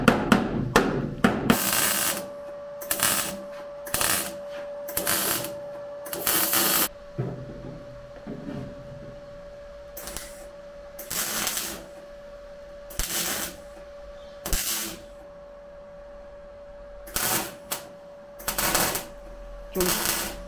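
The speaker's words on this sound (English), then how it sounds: "Let's get the hammer." A hammer taps repeatedly on a Honda Civic during bodywork, sharp close knocks in irregular clusters with pauses between, over a faint steady hum.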